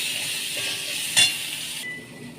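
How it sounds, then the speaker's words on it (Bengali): Onion and partly boiled potato hitting hot oil with whole spices in a pan: a bright, close sizzle with one sharp clink midway, and the hiss drops away abruptly near the end. "পেঁয়াজটা দিয়ে দিলাম, এর সঙ্গে আলুটাও দিয়ে দিলাম"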